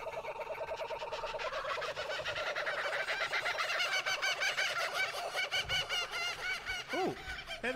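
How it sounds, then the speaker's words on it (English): Kookaburras calling in a game trailer, their rapid cackling, laughing chatter rising and overlapping in rhythmic bursts, fairly loud and alone with no talking. "I hear the sounds of a kookaburra."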